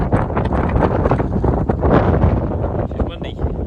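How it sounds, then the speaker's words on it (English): Strong wind on an exposed hillside of a sheep and beef farm in Taipi, New Zealand, buffets the microphone in loud, rumbling gusts, with a muffled voice partly buried beneath the roar. "It's windy."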